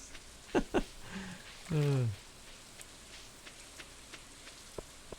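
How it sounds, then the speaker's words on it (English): Gentle rain ambience from the Stardew Valley farming game on PC, a faint, steady hiss of falling drops running underneath, with a few short spoken sounds near the beginning. "I love these rainy days in Stardew Valley."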